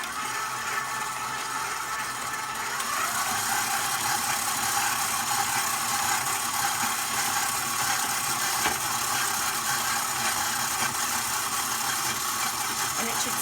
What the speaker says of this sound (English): If you have a very powerful mixer, you don't want to put it all the way up to high speed.